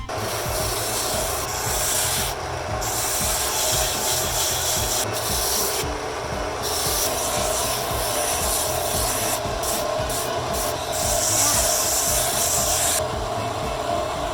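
A blade shaves EVA foam to shape a spike for a He-Man Power Sword prop, giving a steady, close rasping scrape that continues almost without a break.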